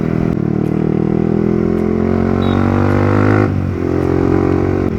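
A Yamaha R15 motorcycle with a loud exhaust revs on a town street, its engine note climbing steadily, cutting off briefly, then resuming, close and loud without talk.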